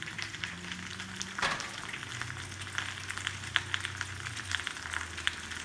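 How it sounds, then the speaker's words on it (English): Potatoes fry in a hot pan as they brown and crisp for a gluten-free breakfast pizza, giving a steady close sizzle and crackle throughout with an occasional louder pop. "You see those potatoes are starting to brown up and go nice and crispy?"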